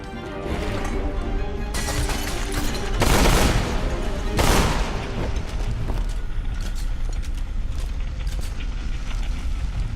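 Double-barrel shotgun fire in the Deadfall Adventures video game, loud blasts around three and four and a half seconds amid continuous gunfire and clatter of combat effects, with no talking.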